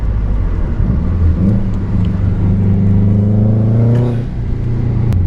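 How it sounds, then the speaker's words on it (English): Subaru car on a test drive after a cylinder 3 misfire fix, its engine droning loud and close with a rising then falling tone as it speeds up, with steady road rumble and no talk. "conclude this little test drive"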